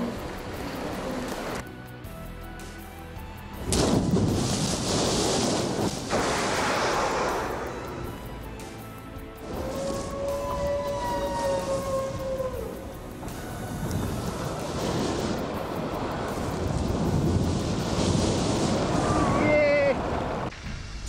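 Strong wind and waves on the Bering Strait as a kayak sets out, with gusty roaring wind buffeting the microphone and surging water over about twenty seconds, while a voice speaks over the noise in places.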